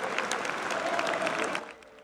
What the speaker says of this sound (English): There was applause at a Leeds United match last season.